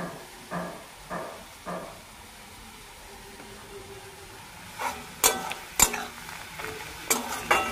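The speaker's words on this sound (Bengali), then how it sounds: "পেঁয়াজটা লাল লাল করে ভাজা হয়ে গেছে।" Onions frying until reddish-brown in a pan during hurried home cooking, with a low steady sizzle broken by several distinct scraping stirs and clinks of a spoon against the pan, close and moderately loud.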